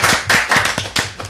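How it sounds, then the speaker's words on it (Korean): Applause at the start of a Gunsan civic policy broadcast: a small group claps in quick, sharp bursts close by, the rhythm loosening toward the end. "박수."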